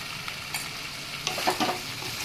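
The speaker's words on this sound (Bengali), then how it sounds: "এবার আমি ভালো করে একটু কষিয়ে নেব।" Papaya and soaked peanuts sauté in a pan with a steady, close sizzle, stirred occasionally with soft scraping taps over the constant frying hiss, no talking.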